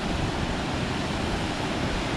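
Rushing water at Thusharagiri waterfall, a steady, dense roar that holds evenly for the whole stretch with no voices or breaks.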